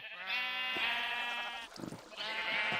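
Sheep in a hardcore Minecraft base pen of coloured sheep bleat twice, clear and close, with a brief scuffling sound between the calls.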